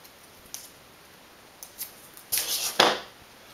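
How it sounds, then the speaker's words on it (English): Adhesive tape pulled and pressed onto the back of an acetate easel craft card, heard as a few short, close rips and crackles, the loudest two coming near the end with small taps earlier. "So I'm going to put some tape across the back here"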